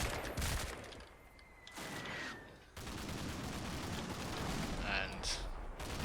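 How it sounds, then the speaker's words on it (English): Machine gun fire in the video game Combat Mission Black Sea rattles as dense bursts of crackling shots over a noisy battlefield background, with distant impacts and a voice heard briefly. "a bit of MG fire coming in on the building"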